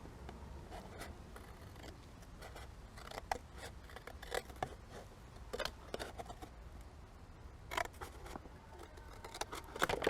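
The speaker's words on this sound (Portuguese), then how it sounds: "inserimos a tesoura dentro da embalagem e seguimos o corte a toda a volta" Scissors cut all the way around a plastic packaging container in a quiet model-making workshop, producing a faint, steady run of small snips and crackling scrapes with no voices.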